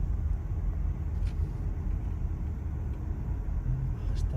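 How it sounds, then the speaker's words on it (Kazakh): A waiting bus idles nearby with a steady low engine rumble, an even drone that holds throughout with faint background traffic noise. "Автобус күтіп отыр."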